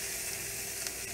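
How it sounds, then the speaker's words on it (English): Chopped onion or shallot frying in a little oil, a steady dense sizzle with faint crackles throughout, close and even, no voices. "Just enough to fry up my onion"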